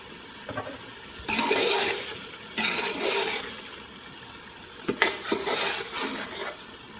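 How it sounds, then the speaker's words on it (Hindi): A spoon stirs spinach and meat for palak gosht in a pot. Bursts of scraping and sizzling frying come and go in waves, with quieter gaps between them. "पालक के एडिशन के बाद हमने इसकी बुनाई शुरू कर दी हुई थी"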